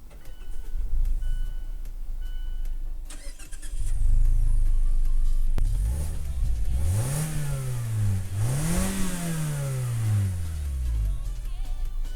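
A 2016 Mazda 3 GT starts with a push button, the engine catching with a surge, then two rising and falling revs swell and settle back to idle, fairly close.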